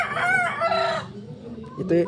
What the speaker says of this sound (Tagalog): Yung mga manok na Esculin, yung bloodline.